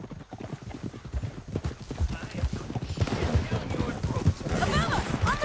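Hooves pound in a fast gallop as a horse is ridden in the Western video game Red Dead Redemption 2, a rapid steady clip-clop, loud and close, with shouting voices and gunfire during the chase.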